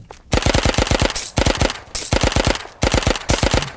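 Video game gunfire comes as rapid automatic bursts, loud and close, with short gaps between volleys and a high metallic ring after some bursts.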